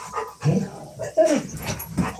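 A pet dog whimpers and yips in short, high, moderately loud bursts indoors, several whines spread across a couple of seconds with soft room noise between them.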